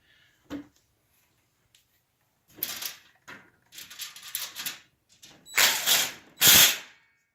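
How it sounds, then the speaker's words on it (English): A power driver tightening nuts on a 6x2 greenhouse frame, heard as several short close whirring bursts that grow louder toward the end, preceded by a single sharp click and near-silence. "just use the power driver to tighten it up"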